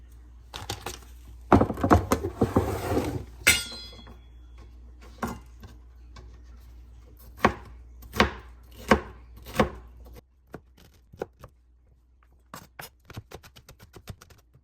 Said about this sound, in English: I'm just gonna chop up a few bell peppers